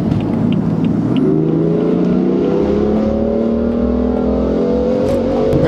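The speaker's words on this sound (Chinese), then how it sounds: "听，我觉得改排气管就是要听到这种。" A BMW F80 M3 revs hard through a straight-through modified exhaust, a loud close engine note climbing steadily in pitch with no talking.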